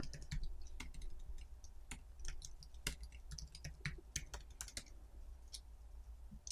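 A web address is typed on a computer keyboard in crisp, irregular bursts of keystrokes, separated by brief pauses. The clicks sound quiet and fairly close, with no speech.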